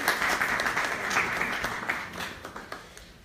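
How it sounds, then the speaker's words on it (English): Audience claps to welcome a speaker at a talk on bipolar disorder, a brisk round of applause that starts full and thins out, fading toward the end. "Let's give him a round of applause"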